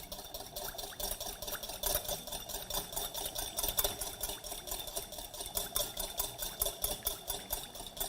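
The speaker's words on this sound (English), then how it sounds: "So proceed to keep whisking right up until your liquid just begins to be a little murky in color." Gyro salad dressing whisked by hand in a bowl as oil is added, a steady rapid clatter of whisk strokes against the bowl, close and continuous without talk.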